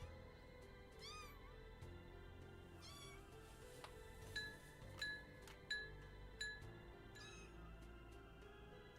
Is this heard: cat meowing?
yes